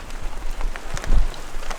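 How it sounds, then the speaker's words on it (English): Rain falling outdoors, a light patter of scattered drops hitting nearby surfaces, soft and irregular with a few closer taps. "Oh shoot, it's raining."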